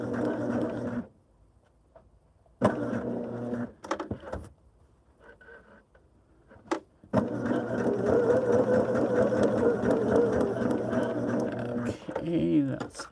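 A sewing machine joins quilt borders, with short stitching bursts early on, then a long steady run of mechanical whirring and hum; quiet gaps between bursts.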